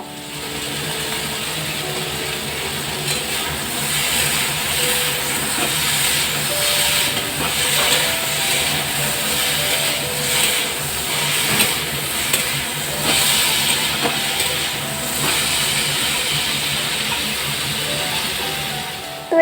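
Mixed vegetables sauté in a pan with salt and turmeric, giving a steady, even hissing sizzle close by throughout, with faint scraping clicks now and then.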